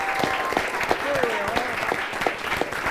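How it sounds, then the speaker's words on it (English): Steady applause from a crowd fills the clip, with a few faint tonal whistles or voices drifting over the clapping. "let us all applaud the audience"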